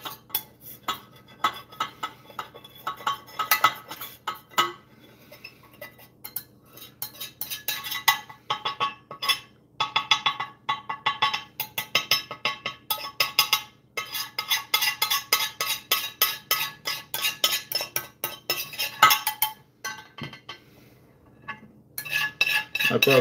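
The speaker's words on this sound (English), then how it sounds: "Probably could get a better tool for the scraping in the future." Metal tool scraping a metal dish in a home alchemy experiment, a long run of rapid rhythmic scrapes, clinks and rattles, close and fairly loud, with short pauses between bursts.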